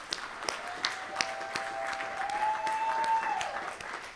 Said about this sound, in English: if we can give her a round of applause